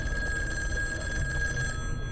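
Red telephone ringing in the horror video game In Sound Mind, a steady electronic bell tone held throughout over a low rumbling ambient drone, dropping off near the end.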